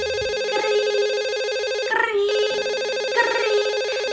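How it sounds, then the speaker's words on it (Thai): A desk telephone in a small office rings loudly and steadily, its electronic trilling tone repeating without a break, close and alone with no voices. "จากนั้นค่ะโทรศัพท์โต๊ะทำงานมันดัง"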